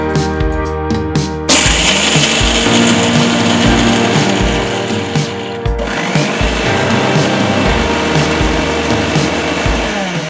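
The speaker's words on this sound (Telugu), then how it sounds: "పొట్టు తీసిన శనగల్ని మిక్సీ పట్టుకోవాలి ఫస్ట్ మనము" An electric mixer grinder powders dehusked roasted chickpeas for sattu, starting up after a brief quieter moment and then running as a loud, steady, high whir with rattling grains.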